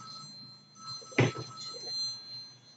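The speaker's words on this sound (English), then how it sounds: "My phone's ringing." A telephone rings briefly, one short burst standing out over a quiet room with a faint steady tone in the background.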